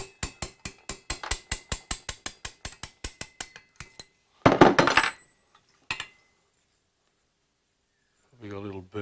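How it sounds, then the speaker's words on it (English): A stuck valve in a GS1000 engine is tapped lightly through its seal, giving about fifteen crisp, evenly spaced metallic taps, then a short rattling clatter and one more knock. A voice speaks briefly at the end. "This one's a bit stuck in the seal. Just going to lightly tap him through."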